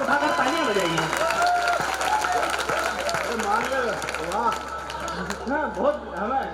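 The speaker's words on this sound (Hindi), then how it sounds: "एक बार पीछे तक के लोग दोनों हाथ ऊपर उठाकर तालियां बजाइए।" Audience at a kavi sammelan comedy poetry gathering at Banoda Balaji claps with both hands raised overhead, a steady continuous patter of many hands running under a loud, melodic voice talking throughout.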